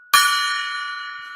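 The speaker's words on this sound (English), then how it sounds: "I'm going to hit the gong" A golden gong is struck once, giving a sudden bright metallic clang that rings on as a sustained shimmering tone, close and loud, alone with no talking.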